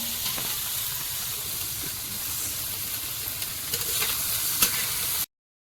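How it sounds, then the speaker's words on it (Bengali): Small fish frying in hot oil, a continuous sizzle with occasional pops and stirring scrapes, cutting off abruptly near the end. "মাছগুলো শুধু ভাজা করবো একটু লবণগুলো মাখিয়ে নিয়েছি"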